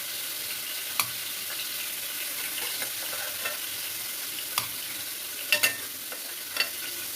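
Pointed gourd (potol) pieces fry in oil in a pan, giving a steady, fairly quiet hiss that runs the whole time, broken by a few sharp clicks and spatula stirs.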